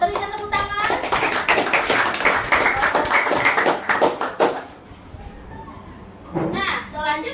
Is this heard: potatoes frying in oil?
no